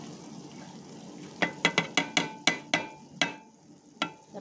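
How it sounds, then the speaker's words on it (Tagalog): Vegetables stirred in a cooking pot with a spoon, a run of about ten sharp clinks and scrapes against the pot in a quick irregular rhythm, close by and with no talking. "I-mix ko na lang guys"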